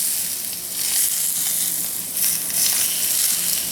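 Hot butter sauce is poured over venison steaks and sizzles loudly and steadily at close range, its crackling hiss swelling slightly in waves with no one speaking.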